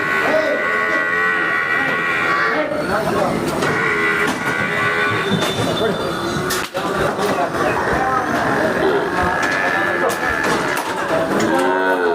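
Many cattle and buffaloes moo and low continuously at a crowded, noisy livestock market in Jangareddygudem, overlapping calls near and far with a sharp knock partway through.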